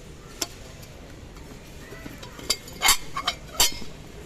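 An 18-piece dinnerware set is handled, giving several light, sharp clinks and taps of plates and dishes knocking together, scattered irregularly over quiet background noise.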